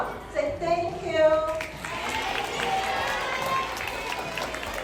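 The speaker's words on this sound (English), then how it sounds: "So now let's just give them a round of applause." A school crowd applauds donors, a broad wash of clapping and some cheering that swells and holds at moderate level, mixed with children's voices and talk in the room.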